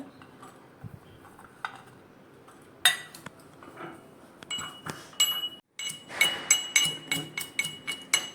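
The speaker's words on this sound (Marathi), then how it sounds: "आता हे आपण लसूण ह्याच्यामध्ये बारीक करून घेऊया" Garlic, cumin and green chillies are crushed in a pot or mortar, with scattered clinks and knocks that build into a quick, regular pounding toward the end.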